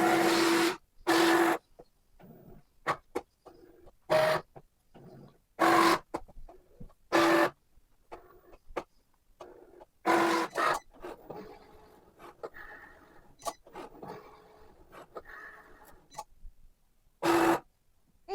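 A Cricut machine cuts a bookmark holder design, giving intermittent bursts of mechanical whirring and carriage movement separated by quieter stretches of faint motor hum and scraping, close and fairly soft.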